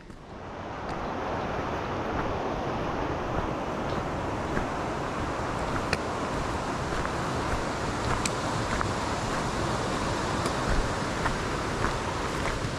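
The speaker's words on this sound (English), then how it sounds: "roaring river" A roaring river rushing through Clarendon Gorge in Vermont, heard from close by in the valley bottom as a loud, steady broadband wash of water that never lets up, with some wind noise mixed in and no talking.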